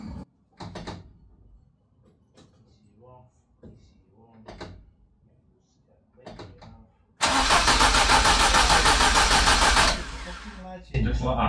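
A Ford Escort Mk1 with an upgraded ECU starts up and runs with a loud, steady roar for a few seconds, then cuts out and fires again. Brief voices and clunks come before the start.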